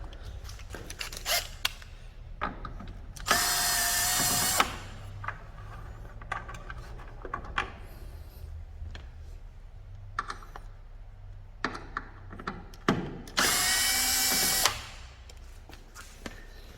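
A power drill backs out two screws holding the rear tail light on a Honda Pilot, two sustained whirring bursts a few seconds long separated by softer handling clicks, close and clear with no talk.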